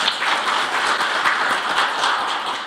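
An audience at a Korean veterans' compensation policy forum applauds a lawmaker, with continuous, even clapping from a crowd that holds steady and tapers slightly at the end.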